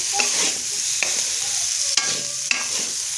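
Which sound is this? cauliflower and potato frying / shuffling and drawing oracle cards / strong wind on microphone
cauliflower and potato frying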